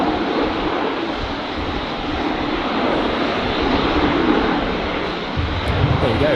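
Qantas airliner engines at Brisbane Airport runway 19 left give a steady, broad roaring hum that holds throughout at moderate distance, with faint radio chatter beneath.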